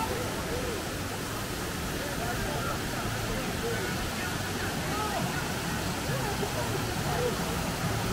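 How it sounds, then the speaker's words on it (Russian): Waterfall near Kutaisi, Georgia, heard as a constant broad roar of rushing water, steady and moderately loud throughout while people talk over it. "Вот пришли на такой водопад."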